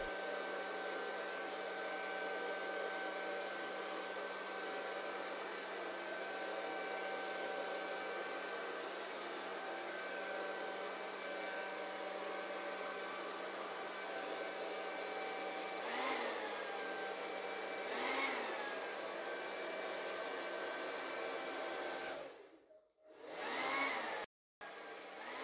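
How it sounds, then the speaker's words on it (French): A hair dryer on fast setting blows acrylic paint across a canvas at close range, steady with a couple of brief pitch dips, then cuts off abruptly near the end before a short restart. "Je mets le sèche-cheveux aussi en position rapide"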